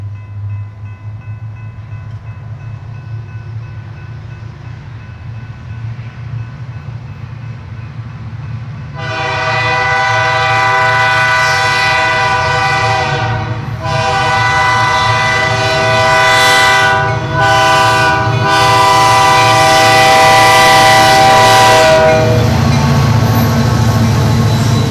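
Freight train rumbling past in snowy conditions, a steady low roar joined midway by a long, loud multi-tone horn blast sounding in several sustained stretches, close by and without talk.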